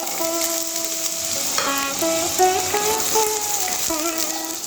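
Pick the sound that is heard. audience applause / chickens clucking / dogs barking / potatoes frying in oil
potatoes frying in oil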